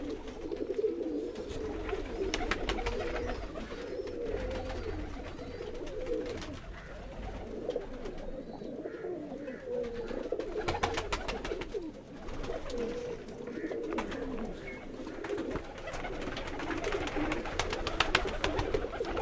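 Pigeons at a rooftop loft coo repeatedly in soft, rolling, low phrases, with several birds overlapping, along with rustling and flutter, and no talk.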